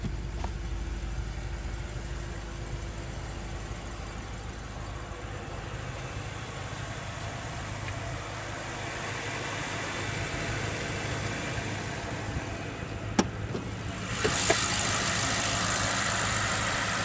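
A 2015 BMW M6 Gran Coupe with a 4.4-liter twin-turbo 32-valve V8 idles steadily, a low, even rumble close by with a brief click near the end.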